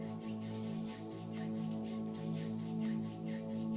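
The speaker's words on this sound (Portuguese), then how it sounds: "Agora você para e você vai esfregar as mãos uma na outra." Palms rubbing briskly against each other in a steady, continuous friction that rises and falls gently over several seconds, close to the listener with no talking.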